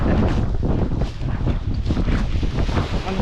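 Strong wind buffets the microphone at a seaside campsite, a loud, steady roar with gusting swells and no voices.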